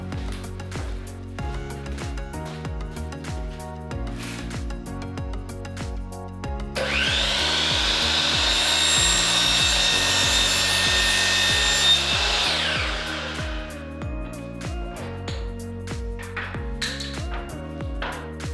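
A miter saw set on two workhorses cuts wooden crown molding for kitchen cabinets, a loud whining spin-up and steady cut of about five seconds between quieter stretches of background music.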